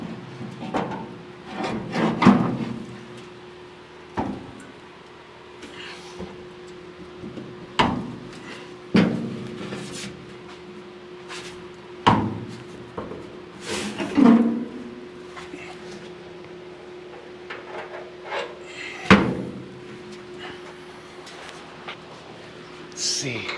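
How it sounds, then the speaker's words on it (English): A Chevy COE truck door, light without its glass, is worked onto its hinge: scattered metallic knocks, scrapes and rubbing clunks at irregular intervals, with quiet stretches and a faint steady hum behind them. "then I'll try to slide the door into the hinge and see how that goes"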